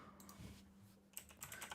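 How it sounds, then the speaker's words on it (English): Keys on a computer keyboard are tapped in a quiet indoor setting, with a few soft clicks followed by a quicker, slightly louder cluster of keystrokes, with no voices. "You get to see my horrible typing skills on display"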